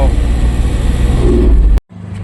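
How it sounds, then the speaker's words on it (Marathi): A loaded delivery truck on a Goa to Bhiwandi run picks up speed, its engine a steady close drone with rising revs that cuts off abruptly near the end before a quieter hum resumes. "आता मस्त गाडी पिकअप घेते बघा"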